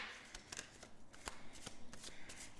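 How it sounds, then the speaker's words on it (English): Soft, quiet riffling and snapping of slightly sticky tarot cards being shuffled, a few crisp flicks among gentle papery shuffling, close up. "I'm just going to give them a quick shuffle again"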